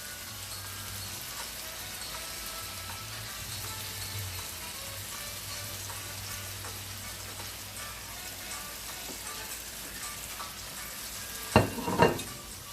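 Fish, peppers and onions for Brazilian moqueca baiana simmer in a pan with a steady soft sizzle and crackle, close by, ending in a couple of sharp clatters.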